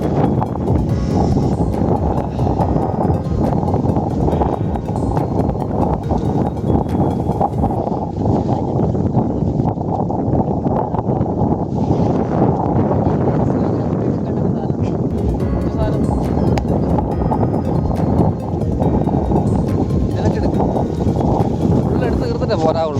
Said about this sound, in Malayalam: നല്ല കാറ്റ്, തണുപ്പ് എല്ലടി.